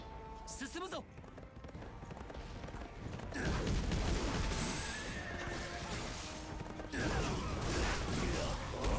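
A horse neighs loudly near the start in the video game Berserk and the Band of the Hawk, followed by rustling, creaking movement and heavy ambient noise, with game sound effects throughout.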